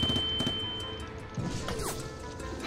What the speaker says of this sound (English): I just shot the floor of the watchtower with the RPG. Oh god, it's collapsing